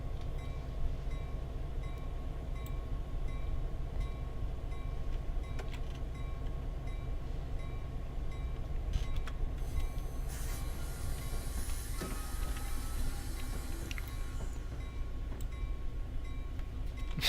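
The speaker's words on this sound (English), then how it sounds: "I actually see the metro trains starting to move too." Metro trains pulling away in the Railworks train simulator game, a steady low rumble of rolling stock with rising wheel and rail noise and a brief squeal partway through, heard alone without talk.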